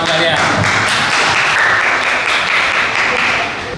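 A class of students claps together in a short, dense burst of applause that fades slightly at the end.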